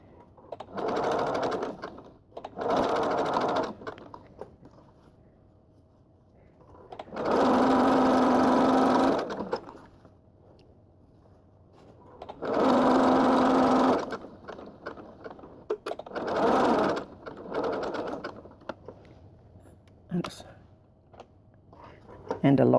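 A sewing machine set to a 2 mm stitch length stitches a blind hem on trousers in several separate bursts of a few seconds each, close and fairly loud, with quiet pauses and handling between runs.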